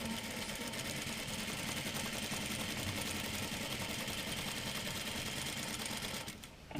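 A sewing machine stitches the collar band of a jacket, a steady fast mechanical whirring hum that runs without pause, fairly quiet but close, ending with a brief slowdown and clunk, no one speaking.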